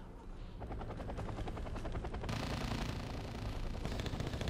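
Chinook helicopter in the Wargame Red Dragon video game, its steady thudding rotor chop running throughout, loud and close, with bursts of broadband noise that sound like minigun fire layered over it.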